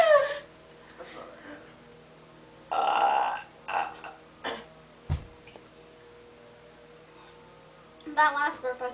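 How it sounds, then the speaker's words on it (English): Loud, close burp in a burping contest between two people, a rough guttural belch near the start, with other short bursts and voices chatting and laughing around it. "That last burp, I swear, something would have came up if I didn't stop myself."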